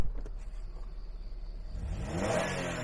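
3.5-litre engine of a 2008 Toyota Vellfire Z 4WD idling with a low hum, then rising into a brief rev near the end, heard close and moderately quiet.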